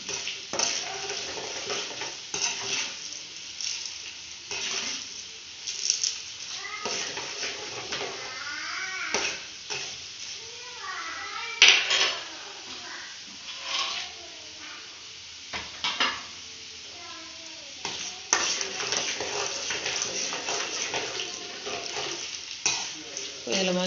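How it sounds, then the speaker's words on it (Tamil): Urad dal and green chillies frying in oil in a pan, with steady sizzling under intermittent scraping and stirring of a spoon against the pan, close and moderately loud throughout. "எண்ணெய் உளுத்தம்பருப்பு கொஞ்சம் பொன்னிறமாக வந்ததும் காய் மிளகாய் போட்டுக்கலாம்."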